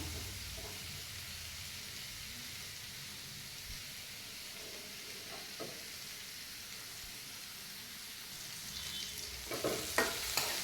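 Vegetables for a paneer gravy sauté and sizzle steadily in a hot pan, a continuous frying hiss with faint stirring scrapes that grows slightly louder and busier near the end; no one speaks.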